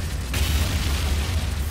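Gasoline blows up in a video game with a sudden broad, roaring blast. It holds as a dense, heavy rumble for over a second, loud and with no talk over it.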